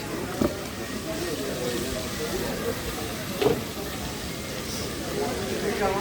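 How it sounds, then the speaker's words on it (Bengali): Hilsa fish frying in oil gives a steady hiss and crackle, with a couple of sharper pops and a murmur of voices in the background, by a riverbank at Mawa Ghat. "একটার পর একটা ইলিশ মাছ ভাজা চলছে"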